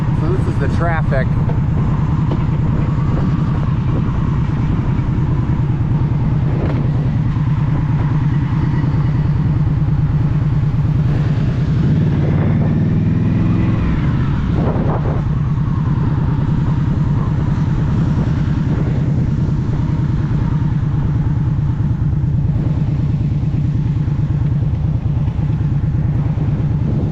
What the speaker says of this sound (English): So this is the traffic.